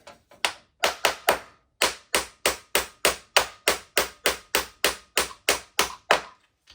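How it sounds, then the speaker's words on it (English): A small hammer taps about twenty times in a steady rhythm while removing a center differential, each strike sharp and close with a brief ring. "Need a little hammer."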